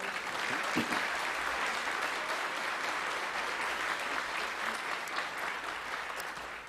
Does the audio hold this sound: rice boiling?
no